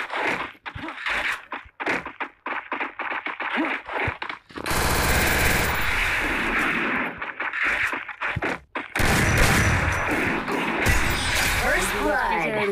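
Loud video-game gunfire comes in rapid automatic bursts, with sustained volleys in the middle and near the end, as someone talks excitedly between and over the shots.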